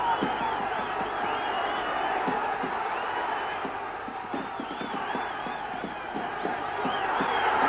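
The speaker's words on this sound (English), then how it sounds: "Charlie's fans begin to stand up all around the ringside and cheer for their man" Boxing fans at ringside cheering and shouting, a dense, continuous crowd roar that swells slightly toward the end, with commentary running over it.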